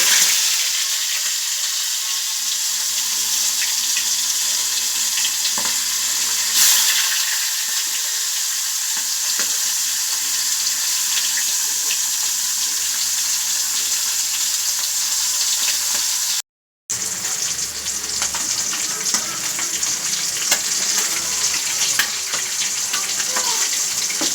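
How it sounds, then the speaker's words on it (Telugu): Salted fish pieces frying in hot oil give a steady, loud sizzle that crackles continuously at close range, with one brief break partway through. "హీట్ అయిన తర్వాత ఇలాగా ఒక్కో పీస్ని నూనెలోకి వేసుకోవాలి"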